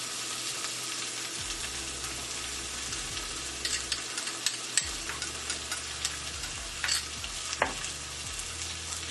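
Roasted peppers and minced garlic fry in a skillet for a shakshuka, giving a steady soft sizzle with scattered light stirring clicks and scrapes, fairly quiet and close.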